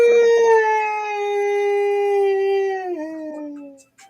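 A long, loud wavering howl from a single animal, its tone holding steady before sliding down and breaking off near the end, with no other sounds.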